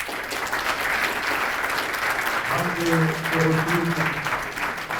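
Audience applause for a two-time national slam champion at a French ceremony, dense steady clapping throughout while a voice briefly speaks over it midway.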